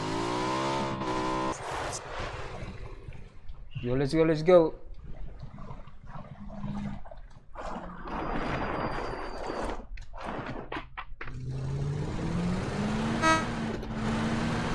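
A vehicle in the PUBG video game, on the Miramar desert map, drives with a rising and falling engine note under loud gameplay sounds, while players talk and shout over it.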